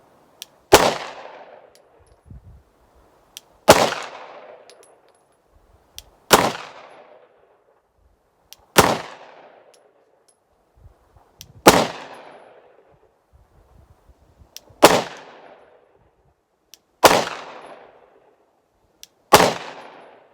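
A Glock-type pistol test-fires eight loud single shots, a few seconds apart. Each shot has a sharp crack and a ringing decay, with faint clicks and handling noises between them and no speech.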